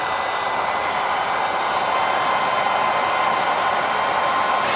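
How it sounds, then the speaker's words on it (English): A heat gun warms hardened old plastic on a Honda 200X, giving a steady close blowing hiss with a constant fan whir that holds evenly throughout, with no talk. "Get the heat gun out and try to heat up this plastic."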